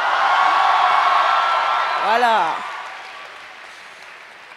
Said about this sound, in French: Je veux plus d'applaudissements.